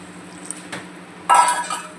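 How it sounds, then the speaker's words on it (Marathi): Water poured into a pot of washed rice for veg pulao, a short splashing gush starting after a couple of faint clinks, close and without talk. "यात आपण पाणी ॲड करूया."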